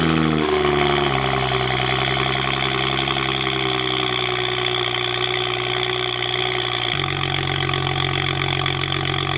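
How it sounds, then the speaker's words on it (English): A BMW 335i (E92) with the N55 engine and a VRSF catless race downpipe idles close by, a steady deep burbling exhaust drone that shifts pitch slightly as the revs settle, with no talking. "we're gonna hear the exhaust for the first time with the Catless downpipe"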